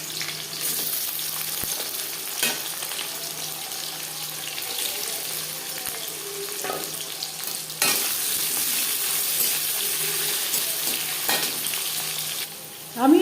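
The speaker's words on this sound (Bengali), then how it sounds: "পেঁয়াজ হালকা করে ভেজে নেব" Chopped onions sizzling in hot refined oil for a chicken curry, a steady broadband frying hiss with occasional stirring scrapes and clinks, loud and continuous, with a sharper burst near the end; no speech.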